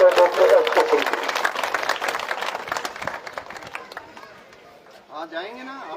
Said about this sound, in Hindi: डॉक्टर एसपी सिंह जी से आग्रह करूंगा कि वो आए और जोरदार तालियों के बीच में मंच पर अपना स्थान ग्रहण करें।